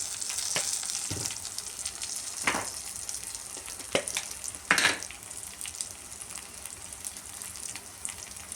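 A spoon stirs turmeric, coriander and chili powder in a hot pan for rasam, giving a steady, fairly quiet sizzle with several sharp scraping strokes at irregular intervals.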